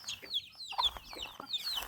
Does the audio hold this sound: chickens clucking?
yes